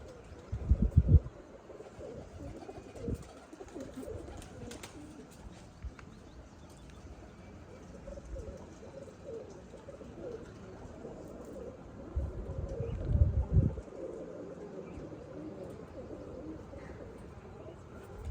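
Pigeons coo in soft, low bursts, most clearly near the start and again toward the end, with quieter background sound in between.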